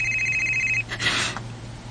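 A cellphone ringing indoors, a clear high electronic tone that sounds for under a second before breaking off, followed by a brief muffled rustle or handling noise.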